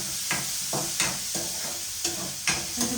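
Food frying in hot oil over a gas flame until brown, a bright constant sizzle punctuated by a steady series of spoon scrapes and stirring strokes, close and loud with no voices.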